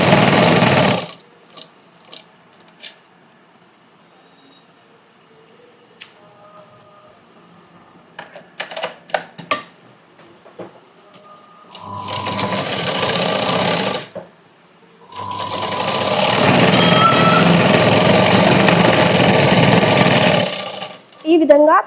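A sewing machine stitches the side seam of a cross cut blouse in two loud continuous runs, a short one and then a longer one, after scattered light clicks and handling noises, with a voice speaking.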